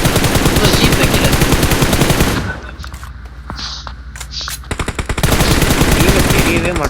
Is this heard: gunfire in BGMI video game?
yes